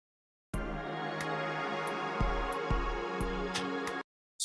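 Looping game music cut so its reverb tail is pasted at the start, playing as dense sustained tones with low percussive hits at steady intervals, beginning and ending abruptly with no swell.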